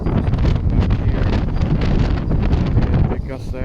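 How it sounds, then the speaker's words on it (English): Strong wind gusts from Storm Darragh roar through a tropical-style garden in the UK, a loud, sustained buffeting rush with rustling foliage and heavy microphone wind noise throughout. "Yeah, big gust there."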